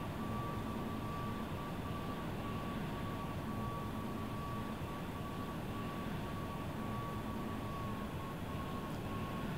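A jet fighter taxis on an aircraft carrier deck in the Strike Fighters 2: Vietnam flight-sim game, a steady, loud broadband engine roar with a thin constant whine, unbroken and without talk.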